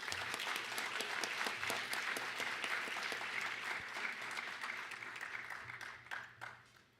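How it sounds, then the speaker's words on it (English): An audience at a 3-Minute Thesis 2025 evening event gives a sustained round of applause, steady and fairly full, thinning out toward the end. "Please give them a round of applause before we get started."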